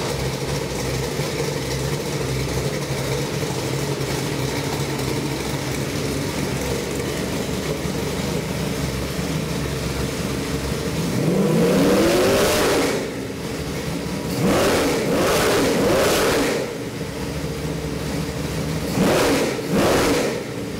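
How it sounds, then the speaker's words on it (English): A Ford 347 stroker V8 on a test stand idles with a steady lumpy rumble, then is blipped through several sharp loud revs that rise and fall, with no talking. "Let me fire this motor up and let you listen to it."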